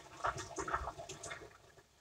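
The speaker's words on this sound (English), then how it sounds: "We're gonna dump the water out of the noodles" Water being poured off cooked noodles from a pot without a strainer, a quiet splashing gush with uneven spurts over about two seconds.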